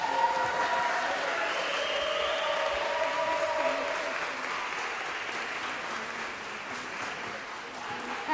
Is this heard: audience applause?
yes